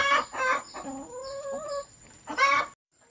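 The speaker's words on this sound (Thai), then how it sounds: "เลี้ยงไก่ พออยู่ได้ครับ ไม่ถึงเก็บเลี้ยงเยอะครับสองคอกคอกละยี่สิบกว่าตัว" Backyard coop chickens cluck and call at close range, a run of short clucks followed by a drawn-out squawk, with a rooster-like cry near the end.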